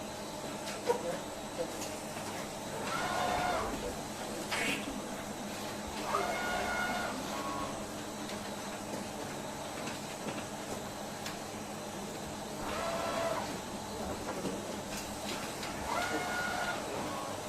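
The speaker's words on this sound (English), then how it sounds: "So you see the robot is already working" A robotic machine runs in a technology school workshop, giving off intermittent whirring and mechanical movement bursts every few seconds over a steady background hum, with people talking quietly throughout.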